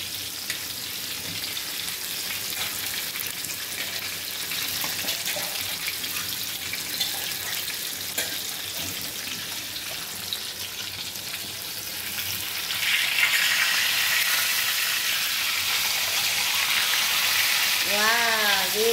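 Fish fries in plenty of oil in an iron pan, a dense, steady sizzle close by that grows louder and brighter partway through, with a voice talking over part of it.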